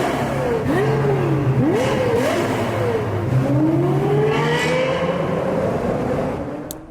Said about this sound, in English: What made this car so special was that V10 engine. It created this gorgeous, almost Formula One sound.